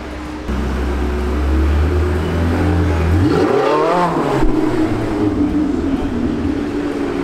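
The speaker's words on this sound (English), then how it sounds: "a Porsche 918 Spyder just passed by" A Porsche 918 Spyder hypercar passes on a London street outside the Dorchester Hotel, its engine note rising and sweeping by close and loud over steady traffic rumble, then fading off.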